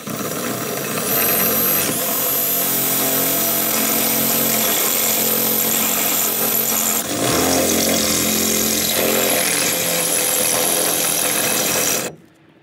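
A power drill bores a hole through a step van's metal body for a solar panel bracket, its motor whining loud and steady close by, with a brief pause partway before it spins up again and then cuts off abruptly.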